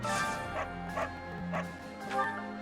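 A dog in Fire Emblem: Three Houses gives a series of yips and short barks, several evenly spaced calls at moderate loudness over background game music.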